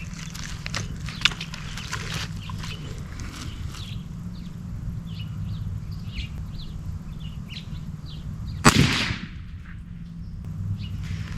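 A single loud rifle shot cracks out while a scope is zeroed at 63 yards outdoors, preceded by quiet rustling and distant birdsong, then fading into the open air.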